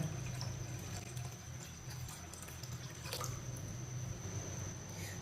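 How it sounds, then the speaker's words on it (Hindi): Cold water is poured into raw mango sharbat, a continuous splashing trickle that runs steadily throughout, close by, with no voices. "अब इसमें ठंडा पानी डाल लेंगे।"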